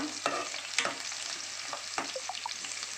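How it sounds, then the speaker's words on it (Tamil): Ground masala paste for fish curry fries in a pan while being stirred, a soft continuous sizzle with a few scraping strokes of the spoon, close and quiet with no talking. "விழுதை சேர்த்துட்டு நல்லா கீழே மேலே கிளறி விடுங்க"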